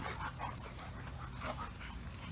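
A Dogo Argentino puppy pants and lets out soft whimpers, faint against a loud, noisy background.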